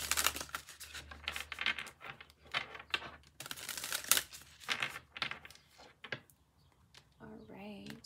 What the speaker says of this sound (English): So bear with me while I shuffle up and get us a card.